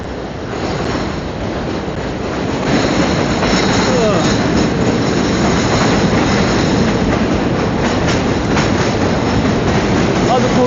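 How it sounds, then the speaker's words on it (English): N subway train in New York passing on an overhead track, heard from beneath as a loud, sustained rolling rumble with rattling clatter and faint wheel squeals, building over the first seconds and then holding steady. "Right now we are underneath the N train."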